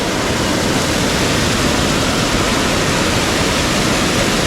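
Rain-swollen water rushes where the Gad and Kajali rivers meet in the Konkan, a loud, dense, unbroken roar filling the whole stretch with no voices.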